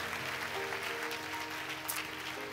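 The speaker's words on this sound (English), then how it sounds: "Can we give them just a great hand clap of welcome to CLC." A church congregation claps in welcome for incoming Christian Life College students, a steady, dense wash of applause filling the hall for a couple of seconds with no pauses.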